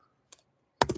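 Computer keyboard typing while setting a password on Ubuntu 25.04, one light tap then a quick cluster of three close keystrokes.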